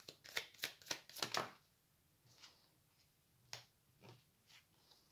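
Tarot cards being shuffled and drawn, a quick run of crisp riffling snaps followed by a few scattered, softer card flicks and slides, close and alone.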